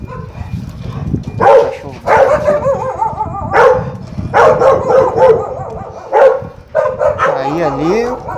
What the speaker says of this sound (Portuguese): Cachorro bravo, hein?